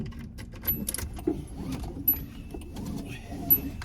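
Car keys for a 1988 Nissan Pulsar NX SE five-speed hatchback jangle in a few brisk, close metallic bursts inside the car, with faint cabin movement between them.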